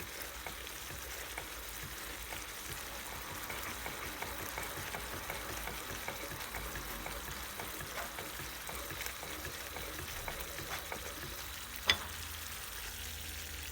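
Cornmeal and water for kuymak stirred in a pan until it thickens, a steady soft bubbling and scraping hiss with one brief clink near the end.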